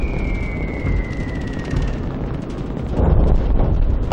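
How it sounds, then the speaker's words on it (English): In the Call of Duty 2 mission Liberators, bombs fall from a bomber and explode below: a descending whistle gives way to deep, rumbling booms under steady wind and engine roar, with a heavier blast near the end. "Bombs away!"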